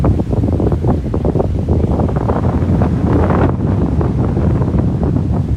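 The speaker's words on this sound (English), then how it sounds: "Much windier by the ocean." Strong typhoon gusts by the ocean in Okinawa buffet the microphone in loud, rough bursts, with a low roar like surf underneath.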